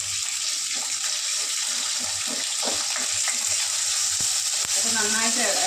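Potato pieces and two halved green chillies sizzle in hot oil with cumin, a dense steady frying hiss with a few stirring knocks and some water-like bubbling near the end.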